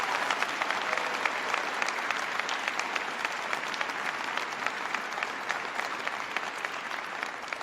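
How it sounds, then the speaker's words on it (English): Audience applauding senators and a congressional delegation at a Recovery Act event, steady dense clapping from a large crowd that holds at an even level for the whole stretch, with no talk over it. "They did an outstanding job, and they deserve a big round of applause."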